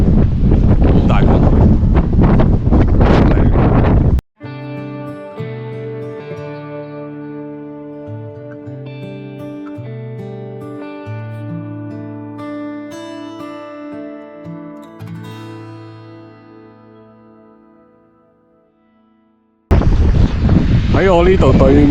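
Strong wind on the Folkestone coast buffets the microphone in loud, rumbling gusts at the start and again at the end, with a stretch of music in between.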